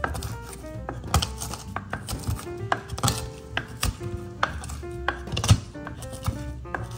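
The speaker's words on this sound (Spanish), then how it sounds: "Vamos a triturar bien nuestro ajo." Garlic being crushed with a pestle while preparing an Andean rib broth, a series of irregular hard knocks and grinding taps, close and loud, alone without talk.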